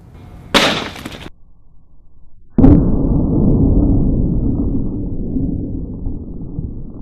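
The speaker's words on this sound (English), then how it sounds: "what you were seeing here is the pumpkin being dropped off the roof" A pumpkin dropped from a rooftop lands with one loud, sudden smash, followed by several seconds of sustained crumbling, rumbling noise, after an earlier brief burst of rushing sound.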